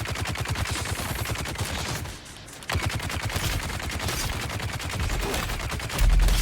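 Enemy gunners fire in the video game Dune Awakening, producing dense, continuous rapid automatic gunfire that is loud and close, with a brief lull before the shooting resumes.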